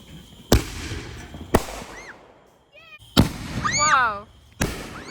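Fourth of July fireworks on a family farm go off in four loud, close bangs spaced about a second apart, with whistling and crackling tails trailing after them. Excited voices can be heard between the blasts.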